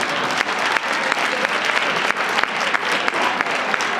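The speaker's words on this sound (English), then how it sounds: "Give yourselves a round of applause." A convention audience in Las Vegas breaks into loud, sustained applause, many hands clapping densely with sharp individual claps standing out from the wash.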